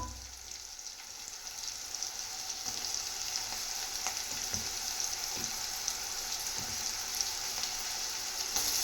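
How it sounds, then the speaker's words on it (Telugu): Homemade ginger garlic paste frying in hot oil, a steady crackling sizzle that grows a little louder after the first seconds, with faint stirring clicks and no talking. "నెక్స్ట్ ఇందులోకి అల్లం వెల్లుల్లి పేస్ట్ వేస్తాను."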